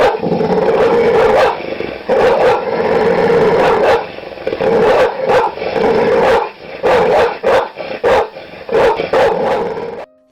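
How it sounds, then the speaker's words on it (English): A large dog on a porch at night barks hard and growls in rapid, aggressive bursts, close and loud, with brief gaps between volleys. "The dog burst into a barking, growling warning"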